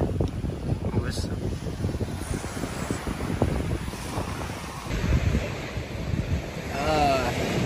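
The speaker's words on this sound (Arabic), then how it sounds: "البحر يا جماعه" Sea waves wash onto a Maldives beach with a steady roar and surge, mixed with buffeting wind noise on the microphone.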